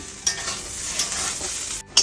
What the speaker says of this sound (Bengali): এখন চালটিকে ভাজা নিতেছি।